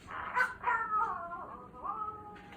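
A dog howls in drawn-out, wavering, sliding tones, like singing, at moderate level with a short bark-like burst near the start and no talking.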